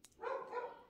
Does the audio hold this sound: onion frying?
no